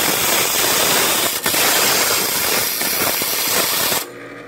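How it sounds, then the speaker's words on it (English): A wheel dresser pressed against a spinning grinding wheel, giving a loud, continuous harsh rasping hiss up close for about four seconds before cutting off abruptly to a quieter motor hum. "So this is another style of wheel dresser you can buy."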